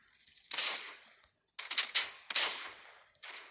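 Gunfire in the shooter game Arena Breakout comes in several sharp bursts of rapid shots separated by short pauses, crisp and fairly close, with no talking.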